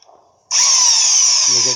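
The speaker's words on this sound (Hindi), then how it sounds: "फिर ड्रिल मशीन से इसको होल कर लें" An electric drill bores a hole for mounting an electric water heater, starting abruptly after a quiet moment and running as a loud, steady high-pitched whine, with a faint voice near the end.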